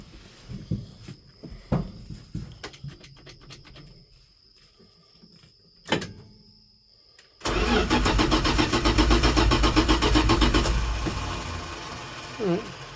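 A project car engine turns over with uneven cranking bursts and a loud starter whir, then catches briefly and runs roughly for several seconds before dying down, with some shuffling and movement nearby.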